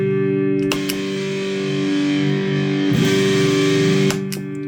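A Jersey Devil Pedal Company Fireball prototype distortion pedal drones with sustained distorted guitar notes over a constant hiss, with a few sharp pick attacks.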